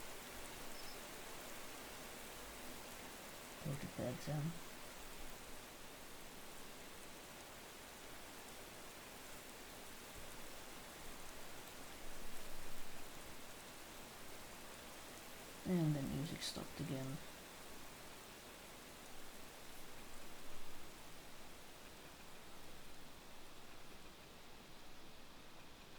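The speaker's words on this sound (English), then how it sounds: "it's raining and it's dark" Steady rain falling in the survival game Sapiens, a soft continuous hiss that runs throughout at low level, with a couple of brief muffled sounds partway through and a voice talking over it.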